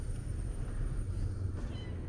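A cat meows near the microphone, a short plaintive call set against a steady low background hum with no talking.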